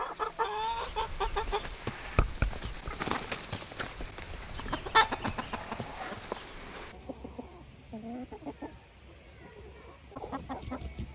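Chickens cluck and squawk close by in a steady, busy chatter, with a brief rooster-like call partway through and occasional thumps.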